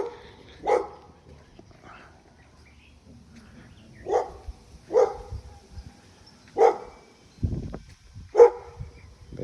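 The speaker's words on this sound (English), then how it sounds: "Big dogs." Big dogs barking in a fenced backyard, five or six deep single barks spaced a second or two apart, moderately near and loud against a quiet background.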